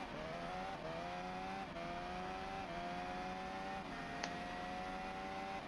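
A high-pitched Formula 1 race car engine drones steadily at the 2023 Chinese Grand Prix, its pitch stepping up and dropping between gear changes, heard from a distance.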